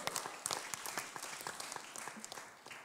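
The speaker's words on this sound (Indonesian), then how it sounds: "Kasih dulu sorak-sorai dong." A church congregation claps and cheers during a Sunday service, a steady patter of many hands with quick uneven beats, fairly faint and distant-sounding.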